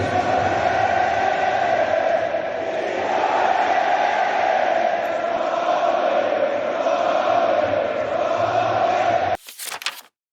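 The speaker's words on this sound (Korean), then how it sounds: "경기장에서 6만 명의 관중이 부른 이 손흥민의 응원과는" A stadium crowd of 60,000 sings a chant for Son Heung-min to the melody of a song, a massed, sustained roar of voices heard from a distance, continuous for about nine seconds before cutting off abruptly.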